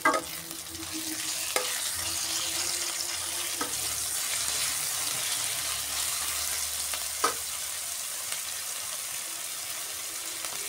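Ginger, garlic and onion paste frying in a pan, a steady close sizzle with occasional stirring scrapes, running without speech.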